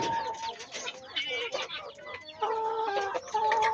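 Gamefowl hens cluck in short, repeated bursts close by, a busy stretch of farmyard chicken calls with no talk over them.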